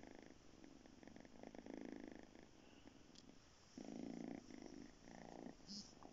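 Lying on a bed, a cat purrs close by in rhythmic swells that rise and fall with its breathing, a quiet, intimate rumble that carries on steadily throughout.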